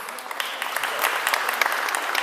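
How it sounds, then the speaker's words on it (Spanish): A roomful of people applauds to welcome a lawyer at a labor-reform discussion, with dense, continuous clapping at steady volume throughout. "Un aplauso, por favor"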